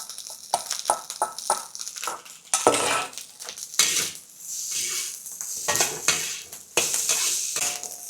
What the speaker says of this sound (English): as much as I can for this small stove to stir fry it for another minute or two